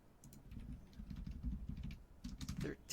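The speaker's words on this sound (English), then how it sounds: "Keyboard's at it again." Rapid computer keyboard typing in a Minecraft gameplay session, a dense run of clicky keystrokes close to the microphone, steady throughout with a brief pause near the end.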